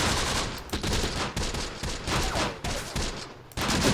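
Rapid gunfire aimed at a cannon in the World War II strategy game Close Combat, desert setting against Italian units: dense, continuous bursts of shots and explosions, loud and close, with brief gaps between volleys and no talk.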